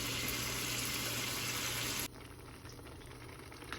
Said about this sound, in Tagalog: pakukulan lang natin to hanggang sa medyo mag-reduce ng ano,